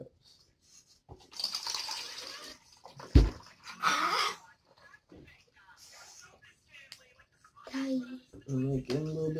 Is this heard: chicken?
no